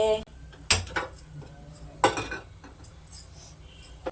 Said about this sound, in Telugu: ఇప్పుడు స్టవ్ వెలిగించి కళాయి పెట్టి